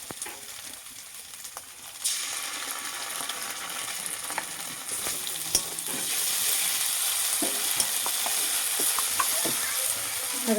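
Cumin paste sizzling and frying in a pan while being stirred, for a spicy Bengali fish curry, with steady close hissing and occasional scraping clicks of the spoon throughout, no voices.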